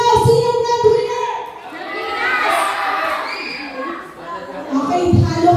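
Crowd of children and adults shouting and cheering loudly for the grand winner at a Pathfinder talents night during a family camp, the voices swelling and dipping in waves.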